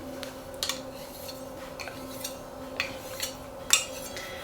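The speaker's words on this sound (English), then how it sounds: "We're going to use a standard knife they call a butter knife." Butter knife working into the seam to pry a violin top off its ribs: a run of small sharp ticks and light wooden clicks at an irregular pace, one louder crack near the end, close and alone over a faint steady hum.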